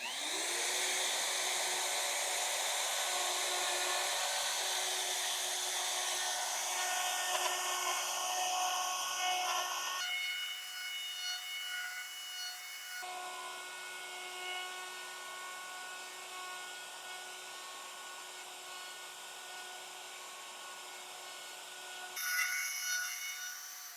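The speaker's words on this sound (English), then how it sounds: "Okay, now we'll get the router." Wood router cutting a hole into a workbench top, a loud high whine with gritty cutting noise that holds steady, dips in load around mid-clip, then climbs again, with no talking.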